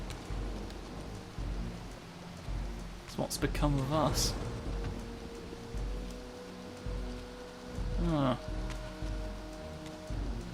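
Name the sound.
rain in a castle, from video game Soul Reaver 2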